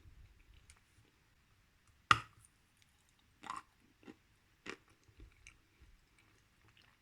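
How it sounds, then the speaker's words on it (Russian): Someone bites and chews dense, heavy Bashkir Mars clay up close: one sharp bite crack, then a few sparse, quiet chewing clicks in a near-silent room. "Откусить трудно, но во рту практически не хрустит."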